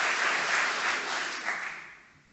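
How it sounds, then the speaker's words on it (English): Audience applause after a talk in a hall, a dense, even wash of many hands clapping at moderate distance, holding steady before gradually fading out. "I think we should show our appreciation by a good round of applause"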